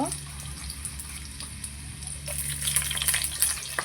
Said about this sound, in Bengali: তেলটা আমার গরম হয়ে গেছে এবার আমি পেঁয়াজে বেরেস্তা বানিয়ে নেব পেঁয়াজটা দিয়ে দেব এখানে